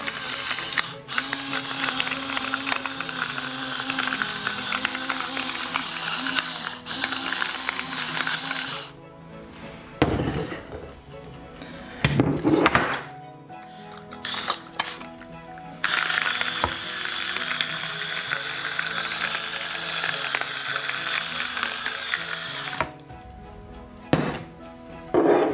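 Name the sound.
pepper grinder grinding pepper onto pork chops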